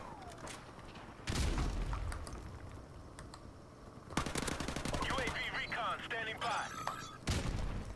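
Bursts of automatic gunfire aimed at the player in a shooter video game, loud rattling volleys separated by quieter gaps, with keyboard clicking and a voice talking over it.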